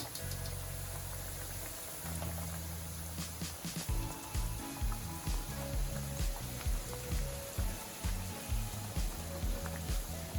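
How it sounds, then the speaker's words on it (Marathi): Sabudana vadas frying in hot oil, a continuous sizzle with rhythmic bubbling pops and spatters, close and moderately loud. "याच प्रकारे थोडे लालसर होईपर्यंत हे वडे तळून घ्यायचे"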